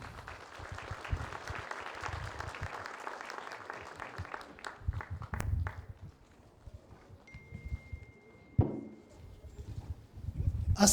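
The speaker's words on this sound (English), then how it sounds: "please give a nice round of applause for Councillor Abid Johan" Audience applause in a hall at a festival opening ceremony, a dense stretch of clapping for about five seconds that tapers into scattered claps, with a few louder knocks and stage noise afterward.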